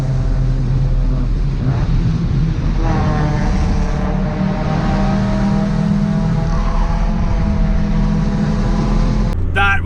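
A car cruises at about 80 km/h near Bathurst, with a steady loud engine drone and road rumble running throughout without a break.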